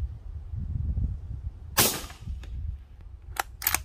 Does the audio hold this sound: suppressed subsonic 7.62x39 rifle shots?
yes